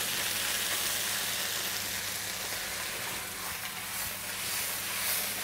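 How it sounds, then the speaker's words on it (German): Beef strips searing in a very hot wok give off a loud, steady hiss and crackle of frying oil, continuous and close with no voices over it. "Einmal schön durch den Wok gezogen"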